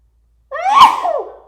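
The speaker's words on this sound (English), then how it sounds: "I'm going to sneeze." One loud, close sneeze erupts suddenly out of silence, with a sharp burst followed by a trailing breathy tail.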